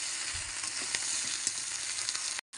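Biryani with garam masala and biryani spice sizzles in a pan as it is stirred, a continuous hiss with soft scraping taps, cutting off abruptly just before the end.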